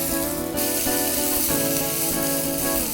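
Onions frying in a pan for a reshmi kebab curry gravy, giving a steady, close, even sizzle that runs throughout with a faint tonal hum underneath and no voices.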